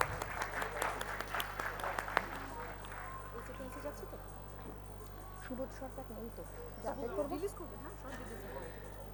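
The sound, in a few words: loud audience applause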